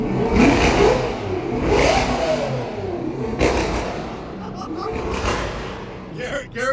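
A car engine revs loudly close by in repeated surging pulls with sharp popping bursts, while people talk and greet each other over it.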